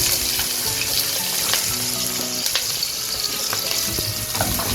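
Sliced onion going into hot ghee and oil, a loud continuous crackling sizzle with bright spitting texture, close up and with no talking over it.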